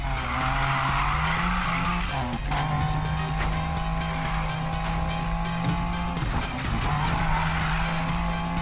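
A car drifting in Need for Speed Payback, engine roaring steadily while the tires squeal and skid continuously at close range, with the engine pitch shifting through the slides.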